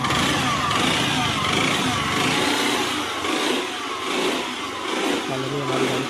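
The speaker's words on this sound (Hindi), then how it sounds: "फाइनली हमारी गाड़ी चालू होगी" A Honda Activa scooter with a faulty self-start relay fires up and revs, loud and close, its engine note rising and falling in several steady revving surges over broadband mechanical noise, with no talk.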